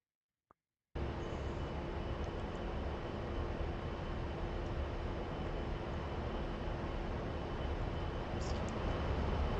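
An A-10C jet engine runs at max power in the DCS flight simulator, a loud, steady, unbroken roar with a faint constant whine that starts abruptly after a short click and holds level to the end.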